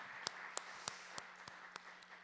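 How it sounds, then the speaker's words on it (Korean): A church congregation at a Friday worship service gives a short burst of applause, a few distinct sharp claps spaced about a third of a second apart, faint and thin against a low steady hum. "하나님께 영광의 박수 올려드리겠습니다"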